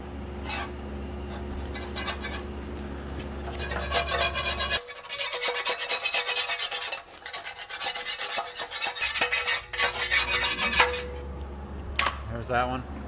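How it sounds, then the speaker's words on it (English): Putty knife scraping an old gasket off the transmission pan of a 2005 Chevy Trailblazer, heard as close, continuous gritty rasping and rubbing strokes over several seconds, with an irregular rhythm and a few sharper metallic scrapes. "I'm just gonna take a putty knife, go around the side of it, try to get this one off"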